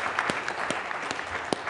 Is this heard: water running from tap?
no